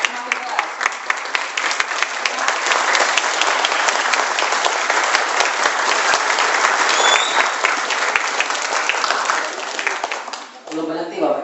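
Loud, sustained applause from a seminar audience at a motivational presentation in Jakarta, dense steady clapping that holds for about ten seconds before thinning at the end, with a voice coming in over the last moment.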